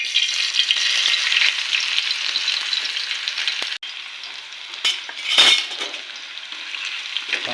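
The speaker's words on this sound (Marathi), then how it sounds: "कांदा थोडा फ्राय करून घेऊ" Chopped onion sizzles loudly and steadily in hot oil seasoned with cumin seeds, cooked for a potato chutney, with a few spatula stirs and brief scrapes breaking the constant hiss.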